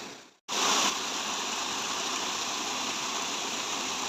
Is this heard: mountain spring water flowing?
yes